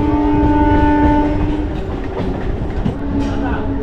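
A train pulls into Panskura Junction station with a loud, sustained horn blast and rumbling carriages, wheels clattering close by.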